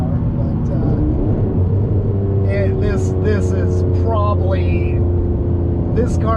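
A Ferrari 599 GTB V12 drives along with a steady, loud engine drone and road rumble from inside the cabin, while people talk over it throughout.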